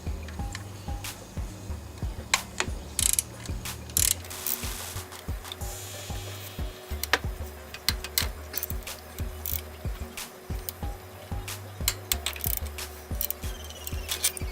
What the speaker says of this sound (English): we can start taking off our 13mm bolts. There's 3 of them.